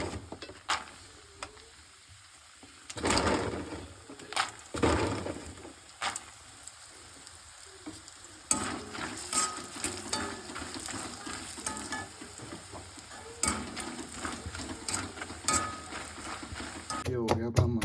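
Makhana fry lightly in oil in a pan while being made into desi laddu. A soft, uneven sizzle is broken by bursts of scraping stirs that come and go, with faint background sound in the quieter gaps.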